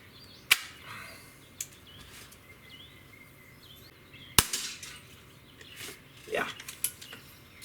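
An airgun fires at a small can target outdoors, giving two sharp cracks several seconds apart among faint birdsong and quiet background rustle.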